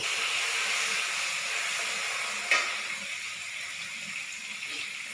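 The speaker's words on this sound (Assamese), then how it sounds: "তেলতে মই অলপ আদা নহৰু আৰু জলকীয়া পেষ্ট দি লৈছো" Ginger, garlic and chili paste sizzles in hot oil with a steady, close hiss and one brief sharp pop midway.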